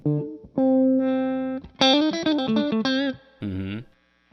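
Eric Johnson Thinline Stratocaster electric guitar playing a short lick, bright clean sustained notes then a quick run of plucked notes and a final chord, close and loud, alone without talk.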